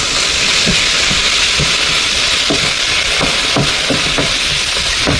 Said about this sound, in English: I'm going to throw in my chilies. These are just green chilies. Stir those in.